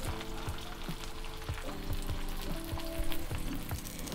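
A flipped stuffed chicken paratha fries on a hot pan with ghee, giving a steady close sizzle marked by faint rhythmic scraping, with no talk.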